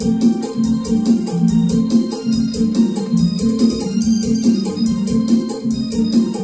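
Music played through a speaker with the 200 Hz EQ band boosted, giving a thick, boomy tone that stays steady throughout.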